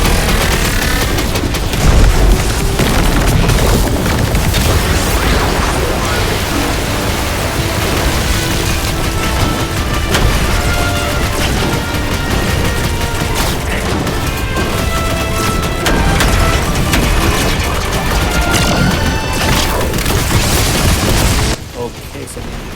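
Repeated homing missile explosions in the video game Contra Operation Galuga, a dense, loud barrage of booms and blasts layered over steady game music and effects, continuing without pause before cutting off near the end.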